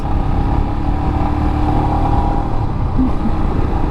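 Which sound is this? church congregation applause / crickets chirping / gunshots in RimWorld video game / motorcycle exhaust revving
motorcycle exhaust revving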